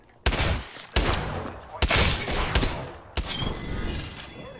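Enemy gunfire in the video game Apex Legends, heard as four loud, sharp bursts of rapid fire, each starting abruptly and trailing into noisy rattle, close and dominant with no speech over it.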